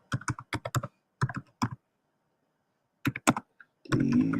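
Typing on a computer keyboard, a few bursts of quick, close key clicks separated by a pause, with a brief rustling thump at the end.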